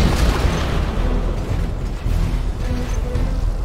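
Cruise missile explosion in the C&C Generals strategy game: a loud, dense rumbling blast with sustained low-end roar and crackle that holds for several seconds without voices.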